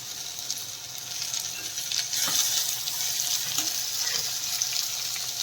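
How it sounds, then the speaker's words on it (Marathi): Chopped tomatoes tipped into onions frying in oil for dhaba-style dal tadka, a loud continuous sizzle that swells as they hit the pan, with a few stirring knocks. "आपला कांदा छान असा तेलामध्ये फ्राय करून घेतला आपण आता आपण ह्याच्यामध्ये टोमॅटो कट केलेले टाकून घेऊया"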